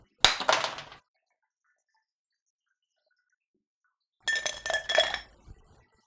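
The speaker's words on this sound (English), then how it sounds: "We're gonna crack large ice and we're gonna stir." Large cracked ice stirred in a cocktail mixing glass while making a Tipperary cocktail, two bursts of bright clinking separated by a few seconds of silence.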